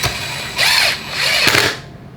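A drill or impact driver with a 3/8 socket tightening screws on a TRS pump during a rebuild, with two close, loud whirring bursts of about half a second each and no talk.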